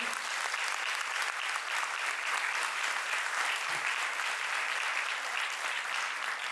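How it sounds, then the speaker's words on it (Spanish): Audience at a caregivers' talk applauding, a dense, steady round of clapping from many hands that holds at even loudness throughout. "un aplauso para ustedes todos"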